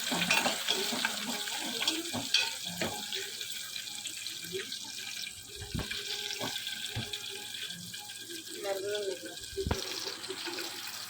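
Green chillies and curry leaves frying in a hot tempering for an eggplant-yogurt curry, a crackling sizzle broken by a few sharp clinks, while someone talks over it.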